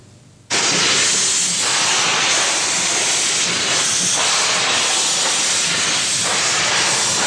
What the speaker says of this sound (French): le petit train de la baie de Somme